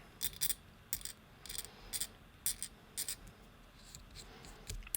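A hobby knife scrapes a plastic miniature model in quick, light strokes, a series of thin dry scratching sounds in short irregular bursts, soft and close with no talking.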